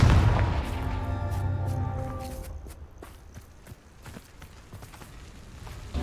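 Confringo fire spell blast in the Hogwarts Legacy video game: a heavy booming burst with a ringing tonal tail that fades over a couple of seconds, followed by scattered lighter thuds and clatters.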